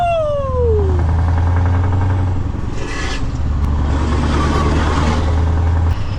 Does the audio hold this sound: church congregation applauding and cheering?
no